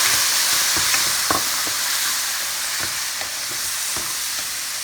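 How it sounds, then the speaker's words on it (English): Chopped tomato sizzles steadily in a frying pan for egg-tomato curry, with a few sharp spoon clicks and scrapes as it is stirred, close and fairly loud with no talk. "Then I'm going to stir a little bit. Then I'm going to put chopped tomato."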